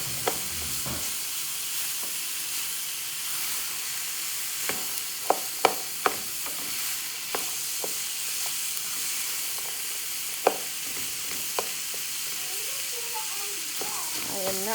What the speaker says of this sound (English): I cook it until the onions and celery are transparent.